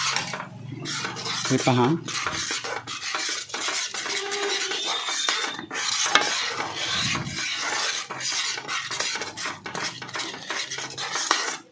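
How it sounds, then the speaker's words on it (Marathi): A spoon stirs a thick Mysore Pak batter of gram flour with ghee in a pan over low heat, giving continuous close scraping and grating against metal with a faint bubbling. A voice speaks briefly near the start. "मंद आचेवर हे तूप घालून ढवळतच राहायचं आहे चांगली जाळी पडेपर्यंत."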